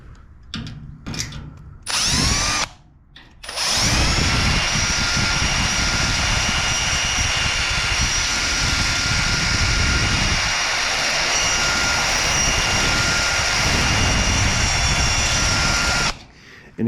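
A power drill screams loudly and steadily as its bit chases small holes in thin metal during a 1969 Charger rear end build, with a few short bursts first and then one long sustained run.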